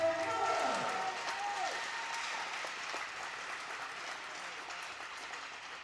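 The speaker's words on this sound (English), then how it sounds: "Let's have a big round of applause for Joe." Crowd applause fills an arena at a high school hockey game, Plum versus Penn Trafford, a steady wash of clapping that starts strong and slowly fades over several seconds, with a brief voice or whistle-like tone near the start.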